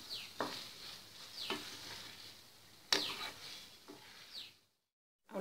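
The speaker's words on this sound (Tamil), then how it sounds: "இதை மெதுவாக நல்லா கலந்து விட்டுருணும்." A spoon stirs mint rice in a pan on the stove, making about four scraping strokes over a soft sizzle. The sound is faint and close, and it stops abruptly near the end.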